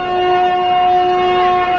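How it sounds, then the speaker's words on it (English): A loud, steady horn blast drones without a break, a single sustained tone that could be a foghorn, heard close and on its own with no talk. "Is that a foghorn?"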